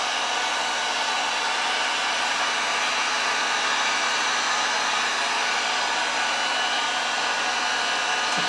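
A blower tool pushes air over a resin geode art piece, making a steady, loud, continuous rushing whoosh with no pauses or speech.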